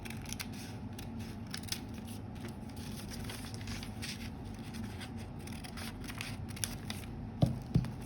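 Scissors snip through paper while making a book craft, quiet crisp cuts repeating over a low background hum, with a few sharper clicks and thumps near the end.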